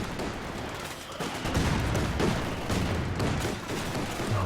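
Bofors anti-aircraft gun and mortar pit firing in Company of Heroes 2, a steady wash of repeated gunfire and explosions building from about halfway in, dense and continuous with no clear gaps.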